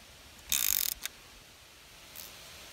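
A steel bolt backed out of aluminum threads repaired with JB Weld, a short rapid ratcheting burst followed by a single click and a faint later tick, close and otherwise quiet.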